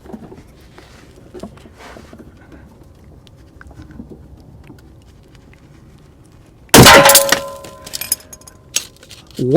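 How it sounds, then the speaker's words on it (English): A rusted exhaust bracket bolt on a GM car snaps under a breaker bar with a sudden loud metallic crack, followed by ringing clinks and a few sharp knocks after a quiet stretch of faint shop noise. "The bolt broke off."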